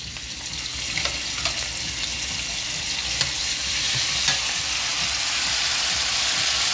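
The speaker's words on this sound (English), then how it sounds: "Now putting some onions." Onions frying with curry leaves in a pan, a loud, steady sizzle with a few faint clicks of a utensil, continuing evenly close by.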